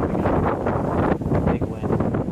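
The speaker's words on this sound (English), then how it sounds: "Big wind." Strong wind gusts outdoors at an abandoned hospital in the Fukushima red zone, a loud, steady roar buffeting the microphone with surging rises and dips.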